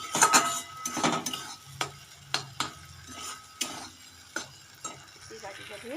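Blended tomato masala sautéing in a pan while a spoon stirs it: a soft underlying sizzle with a burst of scraping at the start, then spaced knocks and clinks of the utensil against the pan.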